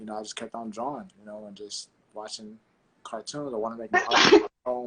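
A single sharp human sneeze bursts out near the end, close and loud, cutting in amid a man's relaxed conversational speech before and after.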